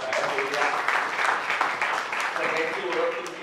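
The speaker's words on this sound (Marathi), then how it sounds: "त्याबद्दल त्यांच्यासाठी एकदा जोरदार टाळ्या होत्या." Loud, steady applause from an audience at a Marathi book launch ceremony, a dense wash of clapping that holds evenly for several seconds with a few voices mixed in.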